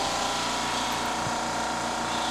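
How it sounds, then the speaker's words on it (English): Compressed air blasts shavings out of a Mercedes car part, an unbroken loud hiss with a low mechanical drone beneath it. "Blow all the shavings out."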